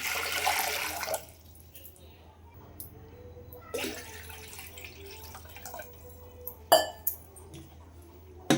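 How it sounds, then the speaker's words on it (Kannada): Water splashes and trickles into a metal pressure cooker, with occasional clinks of metal and a sharp knock near the end. "ನೀರು ಹಾಕ್ತೀನಿ ನೋಡಿ ಕುಕ್ಕರ್ಗೆ"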